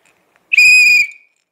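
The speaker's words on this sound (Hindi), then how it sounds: "सीटी बजाओ" A toy whistle is blown once, a loud, steady high-pitched tone lasting about half a second before quickly fading, with silence on either side.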